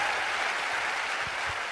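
An audience applauds police officers at a gathering: a dense, steady wash of clapping from many hands that carries evenly, close and fairly loud, with no talking over it.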